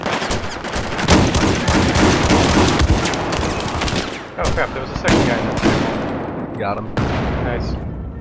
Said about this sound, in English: I just got a multi-kill with a mortar